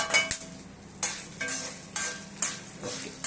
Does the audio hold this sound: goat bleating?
no